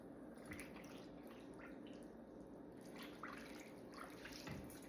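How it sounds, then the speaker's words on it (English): Tap water running steadily into a container being rinsed out after holding marinara sauce, a faint continuous splashing wash with small clinks throughout. "Just going to rinse out my container here."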